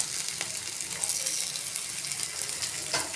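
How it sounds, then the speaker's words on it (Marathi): Six veg cutlets frying in shallow oil, a continuous close crackling sizzle with fine popping spatters, steady throughout with no talk. "तर या ठिकाणी मी 6 भाजणार आहे कटलेट."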